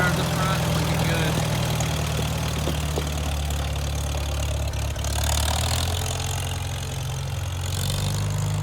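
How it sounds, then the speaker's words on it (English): An 8070 tractor engine runs at a steady idle, a deep continuous low rumble with a faint knocking texture, close by and unbroken throughout, with no speech over it. "we got the 8070 fired up"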